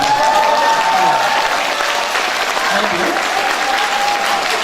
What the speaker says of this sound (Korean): 여기 여자분들이 박수 치십니까?